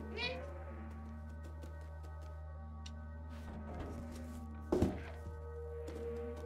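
A game cat in Stray gives a short meow near the start over a low steady electronic hum, followed by scattered soft taps and a louder thunk, with no talking.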